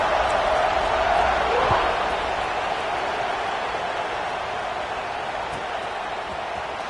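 Steady crowd roar filling a football video game stadium, a broad continuous buzz of many voices that swells slightly early on and then holds even at moderate level, with no clear talk on top.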